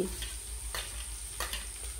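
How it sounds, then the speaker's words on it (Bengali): Capsicum and carrot fry in a pan with a steady sizzle and a low hum under it. Two distinct scraping stirs cut through the frying, heard up close with no talking. "1 মিনিটের মতো এইভাবে ভেজে নিতে হবে।"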